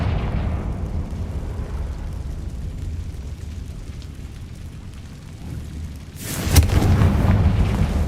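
A Confringo fire spell erupts in the game Hogwarts Legacy, a low rumbling roar building to a loud burst near the end, no talking.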